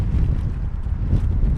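Gusting wind at London Heathrow airport, a steady, loud, low roar buffeting the microphone throughout with slight swells, alone with no talking.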